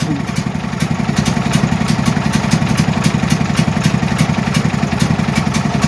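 A Duramax 8500 dual fuel generator engine runs loud and close with a rapid, clattering putter and rhythmic pulsing as the throttle is adjusted.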